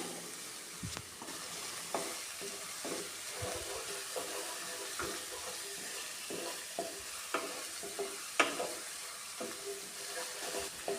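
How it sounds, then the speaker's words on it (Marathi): Green chutney paste sautéed in oil over a high gas flame, giving a continuous close sizzle broken by regular scraping strokes of a spoon stirring the pan. "मी तेलामध्ये हे परतून घेते आपल्याला गॅसची फ्लेम हे फास्टच ठेवायचे आहे हाय हीटवर हे मी परतून घेते"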